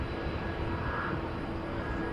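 A Boeing 767 departing runway 18 Left at DFW Airport at night gives a steady, moderately loud engine rumble with a faint whine over it, continuous and unbroken through the short stretch.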